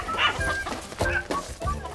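Chickens cluck agitatedly inside a farmyard coop on a rural Korean homestead, repeated short squawks and clucks from several birds bursting out in quick rhythmic clusters, fairly close, with no talk over them.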